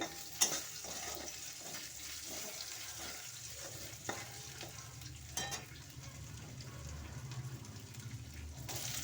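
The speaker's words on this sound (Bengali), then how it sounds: "শুকনো লঙ্কা ফোড়ন দিয়ে দিলাম পাঁচফোড়ন দিয়ে দিলাম" Dry red chillies and panch phoron sizzle in hot oil in a kadai, a soft steady crackle with a couple of sharper pops, quiet and close with no speech.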